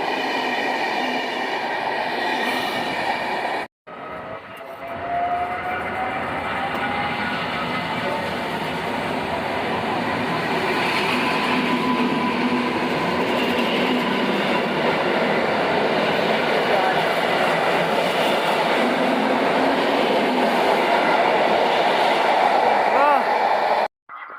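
A regional passenger train passes through Rawicz station, heard as a long, steady rumble of wheels and carriages that swells slightly over about twenty seconds, close and loud, after a brief cutout near the start.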